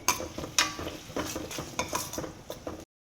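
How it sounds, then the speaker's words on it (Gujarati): Onion sizzling in oil with cumin and asafoetida while being stirred in a pan for pav bhaji, a close crackling fry broken by repeated scraping clicks of a spoon against the pan, then sudden silence. "એમાં પહેલાં તેલ લીધું છે, પછી થોડુંક જીરું અને હિંગ નાખી છે, અને પછી હવે આપણે એમાં ડુંગળી નાખી છે."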